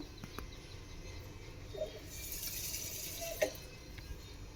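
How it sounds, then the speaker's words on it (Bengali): Water poured from a bowl into flour batter while mixing, a soft trickle and splash close by with a couple of brief louder splashes near the middle and end, no talking. "তো এখানে আমি আরও হাফ বাটি জল নিয়েছি, এইটাকেও এর মধ্যে দিয়ে দিলাম।"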